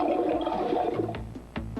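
A water faucet is mechanically turned on and off over and over in a product safety test, giving a splashing, gurgling flow that swells, drops away and restarts in short bursts.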